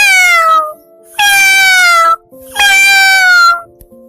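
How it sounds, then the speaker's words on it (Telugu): Cartoon cat meowing three times in a row, loud, bright and drawn-out, each meow sliding downward with short gaps between, with no talking over it. "అరే, ఇదేంటి? పిల్లి వచ్చినట్టుంది."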